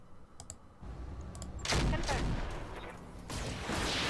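Sustained automatic gunfire shooting up a building in the tactical video game Roguepoint, loud dense bursts rolling continuously and swelling in intensity.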